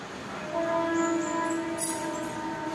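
A train passes near a railway station, heard as a steady rumble with a sustained horn-like tone in the middle, fairly loud and continuous.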